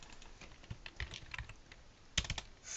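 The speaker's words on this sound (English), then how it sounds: "And we can type in," Quick, quiet tapping on a computer keyboard while entering title text in a video editor, a light irregular run of key clicks with a short pause before a final burst.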